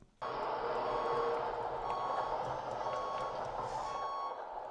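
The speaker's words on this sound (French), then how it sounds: "il y a le son de recul, de l'alerte de recul." A steady electronic beeping tone from a model vehicle's reversing alarm runs throughout, fairly faint with a buzzy mechanical hum beneath it, no voices.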